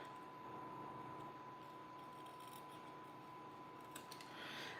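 Scissors trimming card paper for a handmade greeting card, a faint, continuous soft snipping and rustle against a steady background hiss and a thin constant tone, with no talking.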